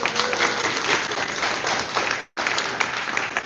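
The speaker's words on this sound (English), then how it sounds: "By a round of applause, who here thinks the answer to this one's the world's largest single-dish radio telescope?" Audience applause fills the room at a Charlottesville Astronomy On Tap night, a crowd clapping loudly and steadily with a short break partway through before the clapping resumes.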